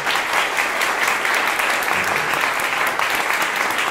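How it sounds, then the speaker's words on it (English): A steady round of applause fills a meeting hall at Sneaton Castle in Whitby, dense and even clapping from the audience lasting several seconds without a break. "So can I have a round of applause,"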